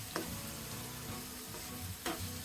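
Chicken cooks in a pan with ground black pepper and a spoonful of sugar, a continuous dense sizzle up close with two sharp scrapes of a spatula partway through.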